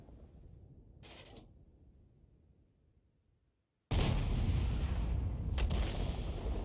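Artillery fire in the World of Tanks video game, heard as a few sharp booming reports: one blast near the start, then a loud sustained burst of gunfire and explosion noise in the second half.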